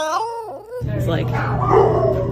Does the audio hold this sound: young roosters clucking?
no